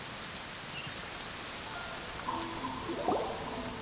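Steady rain falls during a storm in the Genshin Impact video game, a dense even hiss of raindrops with faint tonal game sounds near the end and no talk.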